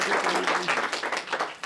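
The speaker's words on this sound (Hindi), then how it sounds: "दद्दा के सम्मान में तालियां" Audience clapping in honor of a guest at a Hindi talk-show event, a dense, steady patter of many hands held close and fairly loud throughout.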